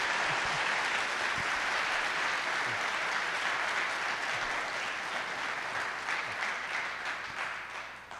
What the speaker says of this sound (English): So please give a round of applause to our attorneys here today.